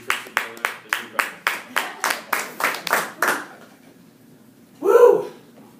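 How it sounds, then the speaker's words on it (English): Audience at a Toastmasters table topics meeting claps in a steady run of about a dozen sharp, evenly spaced claps that fade out, followed after a pause by a brief whoop or vocal cheer. "A lot of clapping."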